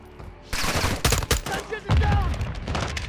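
Rapid bursts of gunfire from the Modern Warfare II campaign, loud and close, with automatic fire and sharp single shots layered over battle noise.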